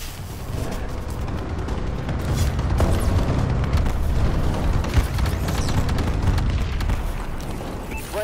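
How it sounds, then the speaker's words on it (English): A bombing run in the Call of Duty Advanced Warfare video game unleashes a dense, loud barrage of overlapping explosions and booms, rumbling continuously for several seconds. "Bombing run incoming!"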